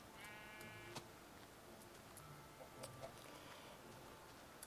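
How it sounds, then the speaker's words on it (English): Sheep bleating in a video game, a wavering, harmonic bleat near the start and fainter calls later, set against a quiet ambient background with no talking. "Sheep, you're not going to help me."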